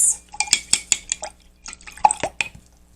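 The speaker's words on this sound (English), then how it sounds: "And then we'll give our brush a rinse." A paintbrush is rinsed in a jar of water for watercolour painting, giving a string of light clinks and taps of bristles and handle against glass with small watery swishes, close and clear, in two bursts separated by a brief lull.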